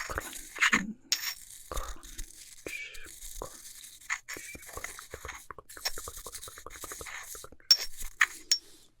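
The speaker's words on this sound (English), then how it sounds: "Crunching." Crunching and crushing of small dry items, roughed up to sprinkle into hair during a chaotic makeover, heard close up as scattered crackles, clicks and scrapes with soft-spoken talk.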